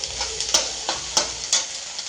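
Chutney masala for egg curry sizzles and crackles in a hot pan, with a steady frying hiss and several sharp stirring scrapes spaced through it, close and fairly loud.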